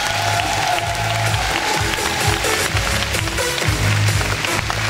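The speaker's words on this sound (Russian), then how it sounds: "Еще раз комзотряд бурными аплодисментами" Lively applause from a group at a summer school opening, continuous clapping with scattered louder claps, a low hum and faint voices underneath.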